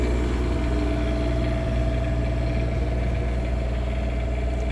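A Cummins Onan Quiet Diesel 7500 generator on a 2005 Georgie Boy Cruise Air XL motorhome runs at a steady drone, a constant low hum with a faint whine holding evenly throughout, with no speech.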